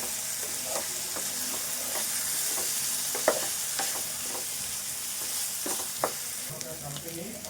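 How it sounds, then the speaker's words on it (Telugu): Soaked chana dal is stirred into a curry frying in a pan, with a steady close sizzle and scattered spoon scrapes and taps for a meal maker and chana dal curry. "ఈ నానబెట్టిన శనగపప్పు కూడా వేసుకుందాము ఇది కూడా కలుపుకుందాము"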